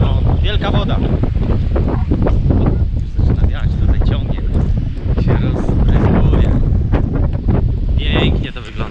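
Ocean waves and gusty wind on the Tenerife coast roar loudly and steadily, with heavy wind buffeting the microphone and voices talking over the surf.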